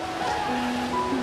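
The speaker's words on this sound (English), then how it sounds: "The powerful sound of waves on Lake Erie." Waves rolling onto the shore of Lake Superior, a steady, loud wash of surf that fills the whole moment without breaks.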